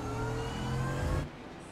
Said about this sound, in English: It definitely has the meanest grunt of any car in the field.